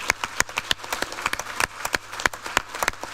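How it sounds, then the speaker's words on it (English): Sparse clapping from a small audience at a talk in a parliament setting, individual sharp claps in an irregular rhythm rather than a full wash, fairly close and distinct. "I appreciate the applause, but it's not necessary."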